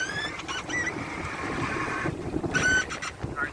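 Steady wind noise and water rushing along the hull of a single-handed sailboat close reaching off Hilton Head Island, South Carolina, with the wind nearly on the nose; a continuous broadband wash with brief gusty swells, no talk.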